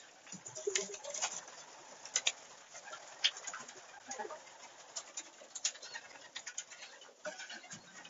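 Pigeons in a loft at feeding time, with soft repeated cooing and scattered wing flutters and patter of birds moving about, moderately close with no talk.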